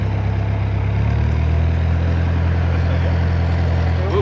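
A narrowboat engine idles steadily nearby on the Chesterfield Canal, a low, even rumbling throb that holds constant without revving.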